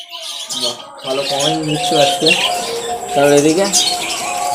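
Pet birds in a bird shop, including a one-year-old lutino cockatiel, give repeated chirps and calls close by, with a voice talking over them.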